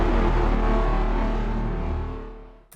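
A heavy impact hit in Bitwig Studio, layered with a deep sub and a kick, lands as a loud, thick boom with a sustained low rumble that decays over about two and a half seconds before a short crackle at the end.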